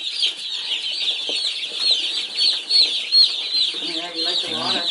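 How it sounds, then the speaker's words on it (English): A big box of meat bird chicks cheeps and clucks nearby in a continuous high chorus with repeated peeping calls, and brief human sounds are heard toward the end. "See, we got a big box of birds."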